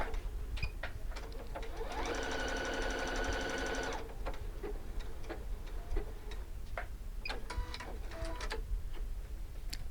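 An EverSewn Sparrow 30S sewing machine sews a decorative half-moon stitch in a steady, fast mechanical run of close needle strokes lasting about two seconds, followed by quieter clicks and ticks as it slows and stops.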